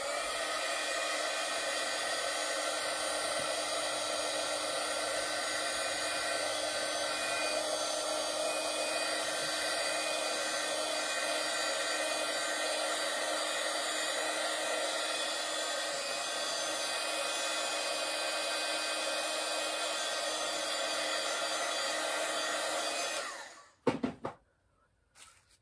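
A hair dryer blows steadily and loudly up close for over twenty seconds, drying paint and ink on thin paper, then cuts off abruptly near the end with a few small handling clatters.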